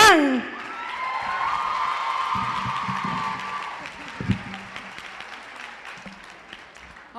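A crowd at a Latina empowerment event in New Jersey applauds and cheers as a guest from Noticias 41 is welcomed, with a loud burst of clapping and whoops at the start that settles into steady applause and some scattered shouts.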